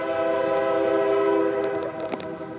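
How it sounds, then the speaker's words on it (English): A passing train sounds its horn in sustained tonal blasts outside Big Sandy Community and Technical College, steady and moderately loud in the background, then fading with a few faint clicks. "You guys hear the train in the background?"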